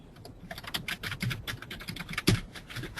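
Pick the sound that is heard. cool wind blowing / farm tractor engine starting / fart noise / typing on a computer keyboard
typing on a computer keyboard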